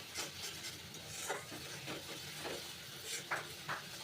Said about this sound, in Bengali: তো এখানে আমি মশলাটা খুব ভালো করে কষিয়ে নিচ্ছি বন্ধুরা।